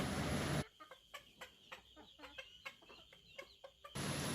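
Native country chickens clucking while they feed on fruit waste: a run of close, short clucks and soft calls in an irregular rhythm, with louder broadband noise at the start and end.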